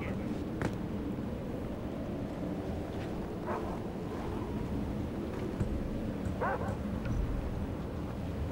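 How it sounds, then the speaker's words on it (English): Dogs barking in Far Cry 4, a few faint, short yelps and barks at a distance over a steady low rumble of ambient noise. "Frickin' dogs, though."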